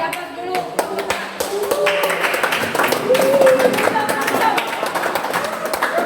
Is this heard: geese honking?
no